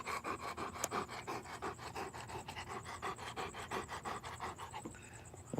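A big dog pants rapidly and steadily close to the microphone, quick rhythmic breaths continuing without a break, faint and alone.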